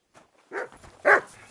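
Dog in the game Kingdom Come: Deliverance II giving two short, close barks about half a second apart, preceded by a faint yip in a quiet setting.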